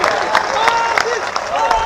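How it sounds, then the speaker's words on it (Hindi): Applause from a rally audience welcoming a guest at a BJP Parivartan Sankalp Yatra: dense, steady clapping throughout, mixed with crowd noise and a tonal voice or sound running underneath. "पूरी ताकत के साथ में ताली बजा करके इनका भी स्वागत कीजिए।"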